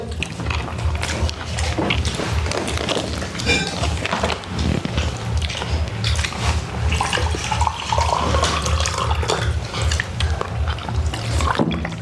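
Water streams steadily from a tap, a continuous splashing rush that runs unbroken throughout.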